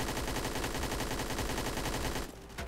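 Rapid automatic fire from an AK74N rifle in the Roblox game Blackhawk Rescue Mission 5, a dense burst of shots running almost continuously before cutting off near the end.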